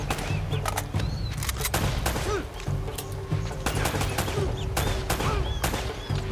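Gunfire in the remastered video game Uncharted: Drake's Fortune, with dense overlapping shots and impacts over a steady game soundtrack throughout.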